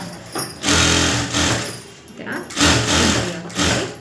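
A sewing machine runs a straight edge of stitching along lining fabric in quick close bursts, with a brief pause between runs.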